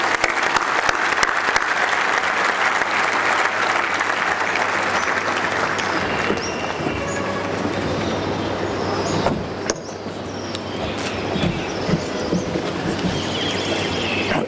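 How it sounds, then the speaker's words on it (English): Sustained applause from a large audience welcoming Dr. Prahlad before his address in Ahmedabad: dense, steady clapping over the full stretch, loud and continuous with a low hum beneath, easing slightly in the latter half. "So let us all, with a good round of applause, welcome Dr. Prahlad to deliver his address"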